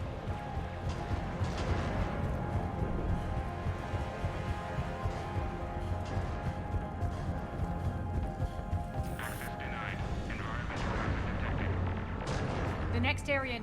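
Heavy cannon artillery fire in Mass Effect 3 (Legendary Edition) on Omega, repeated booming blasts and gunfire over continuous game ambience and music, with a voice briefly speaking under the action.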